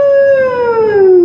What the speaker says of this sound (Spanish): Ahí viene la ambulancia detrás de los bomberos.